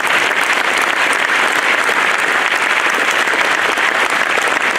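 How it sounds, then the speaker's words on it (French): Sustained audience applause at a 2018 New Year's greetings ceremony, honouring the departmental council and its president; dense, loud, even clapping fills the whole stretch without a break. "je crois qu'on peut applaudir le conseil départemental et son président"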